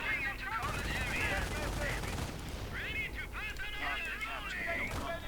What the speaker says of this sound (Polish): Nie wiem, czy ten snajper strzela w mojego.